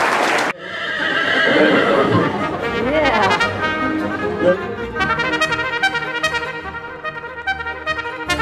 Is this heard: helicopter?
no